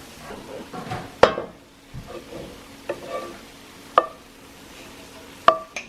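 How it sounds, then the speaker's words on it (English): Cooked vegetables and pork stirred in a sizzling pan, a steady low fry broken by several sharp utensil scrapes and clinks, close and alone. "Now that the veggies are cooked, it's time to combine them with the meat."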